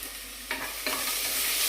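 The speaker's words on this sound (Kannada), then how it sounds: "ನೋಡಿ, ಈರುಳ್ಳಿ ಫ್ರೈ ಆಗುತ್ತೆ." Salted onions sizzle steadily in hot oil for chitranna, with two sharp stirring scrapes near the start before the frying hiss carries on alone, close and fairly loud.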